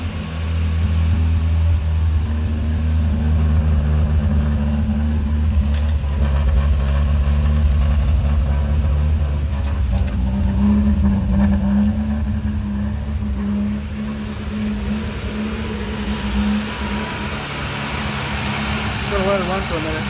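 An old first car, just revived, idles after starting, with a steady low engine rumble running throughout, close and fairly loud, with faint talk over it.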